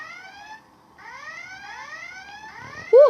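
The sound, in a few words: alarm ringing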